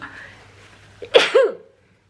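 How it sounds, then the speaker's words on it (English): One sharp, close sneeze bursts out loud after a brief quiet inhale, trailing into a short voiced exhale, then silence. "I'm going to sneeze."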